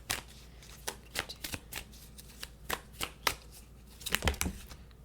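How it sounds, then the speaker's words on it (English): A deck of tarot cards is shuffled by hand nearby, giving quiet, irregular riffling rustles and taps in short bursts, with a denser flurry near the end. "Keep shuffling."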